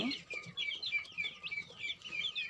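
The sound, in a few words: duck and chicken chicks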